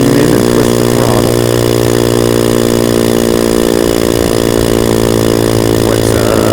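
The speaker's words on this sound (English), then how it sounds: "Put the lean in and twist the throttle." A motorcycle engine runs loud and close with a steady buzzing drone, the pitch rising and settling slightly as the throttle is twisted.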